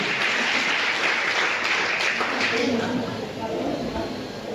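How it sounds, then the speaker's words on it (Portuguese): A church congregation applauds in honour of the Virgin Mary, a loud, dense wash of clapping that fills the space and thins slightly toward the end, with voices mixed in. "Vamos dar uma salva de palmas para a nossa mãe querida."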